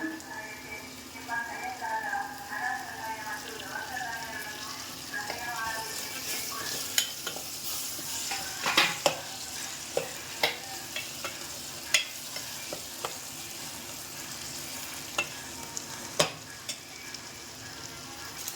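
Bitter gourd fries in a pan with a constant hiss of sizzling, while a spatula scrapes and taps out scattered sharp clicks; a voice talks quietly over the first few seconds.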